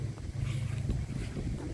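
Strong gusty wind buffeting a camped van and its pegged-down annex ahead of Cyclone Alfred, a steady roaring rush with heavy low rumble of wind noise on the microphone and no speech.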